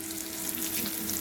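Onions frying in a pan with salt added, a steady, continuous sizzle, close and fairly loud, with no speech.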